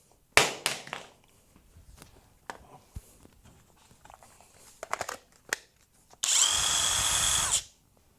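A SEESII WH760 cordless impact wrench that has just been dropped runs in one loud, steady burst of roughly a second and a half. It comes after several scattered knocks and handling clatters.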